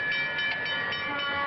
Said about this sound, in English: Here's a railroad crossing